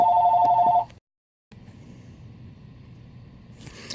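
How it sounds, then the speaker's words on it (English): A telephone rings with a close, loud electronic warble that cuts off abruptly, followed by a moment of silence and then faint room noise. "But let me get this phone."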